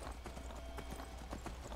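Horse hooves clip-clop at a steady rhythmic gait while riding in Skyrim, repeated quiet strikes over a low background rumble, with no talk.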